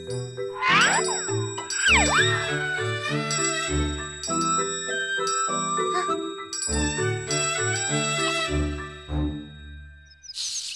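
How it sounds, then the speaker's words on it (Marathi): A small bell rings in a busy musical sequence of bright dings and tinkles over rhythmic tones, with chirpy sliding effects, loud and continuous. "बाळांनो, ही घंटी हवी आहे का गळ्यात घालायला?"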